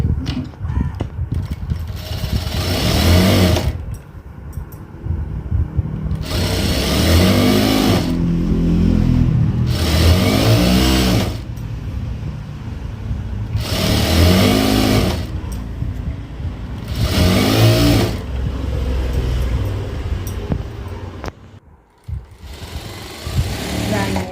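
Sewing machine stitching a folded one-and-a-half-inch hem to hold elastic, running in several loud bursts of a few seconds each, separated by pauses where someone talks.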